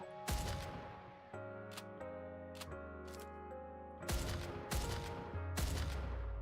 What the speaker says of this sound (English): that's a big ass machine gun